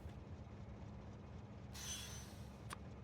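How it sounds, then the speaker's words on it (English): Freight train in the game Factorio rolling in over a steady low rumble of machinery, with a brighter rush of wheel noise partway through and a short sharp squeal near the end. "And a train will come up here and grab some omnite."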